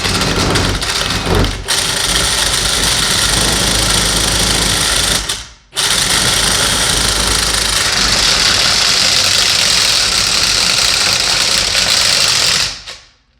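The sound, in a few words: Ridgid FlexShaft K9-204 drain cleaning machine running in pipe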